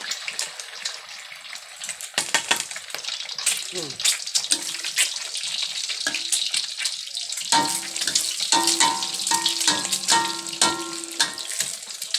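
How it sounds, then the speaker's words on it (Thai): A fried egg cooks in a pan with busy, crackling sizzling and spattering that fills the scene, close and steady, with a person talking briefly over it. "ทอดไข่ดาว"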